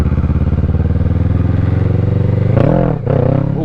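Motorcycle engine revving steadily with throttle held, then a sharp surge and dip as the clutch is popped for a wheelie, loud and close with no talk.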